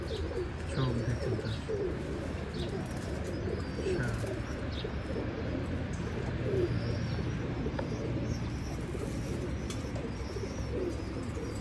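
Teddy pigeons in Oman coo in low, overlapping murmurs, with occasional higher chirps from other birds, a steady close flock sound throughout.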